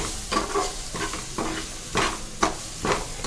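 Vegetables being stirred with Maggi masala in a frying pan for veg noodles, making several rhythmic scraping strokes over a soft sizzle, close up with no voices.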